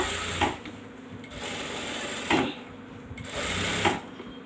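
A sewing machine runs steadily, putting rough tacking stitches around three sides of an embroidery blouse, a close, continuous whirring hum with brief pauses and restarts.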